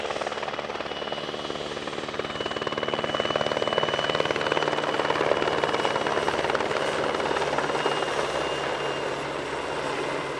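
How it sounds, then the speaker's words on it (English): A PZL W-3 Sokol helicopter flies nearby during a search and rescue demonstration at an airshow in Leszno, Poland, with a steady, loud rotor thump and engine whine that swells slightly and then holds. "search and rescue demonstration by another Polish-designed aircraft, the PZL W3 Sokol"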